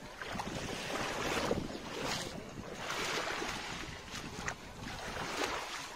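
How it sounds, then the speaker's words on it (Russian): Waves roll in on a wild, undeveloped Dead Sea shore in October, with broad surging washes rising and falling every second or so against steady wind noise, and no voices. "я что-то не помню, что вот на Мертвом море такие волны."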